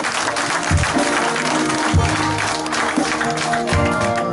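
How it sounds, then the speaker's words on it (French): Congregation at a wedding ceremony claps and cheers for the Lord, a steady, dense wash of applause lasting throughout with rhythmic clapping pulses and no clear speech. "Donnons une acclamation au Seigneur."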